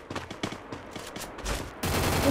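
A UMP submachine gun fired in a shooting video game: a rapid run of evenly spaced shots, moderately loud, ending in a sudden burst of denser noise.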